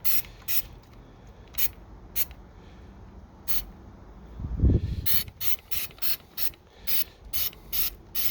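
A rattle can sprays paint onto a Nissan Xterra grille in short hissing bursts, some spaced apart and then a quicker run of repeated sprays, close by, with a soft clunk midway.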